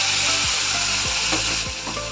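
Ground onion-tomato paste fries in oil with cumin, fenugreek, dried chilli, bay leaf and garam masala for mutter paneer: a steady, loud sizzle with several scraping strokes of a spatula across the pan.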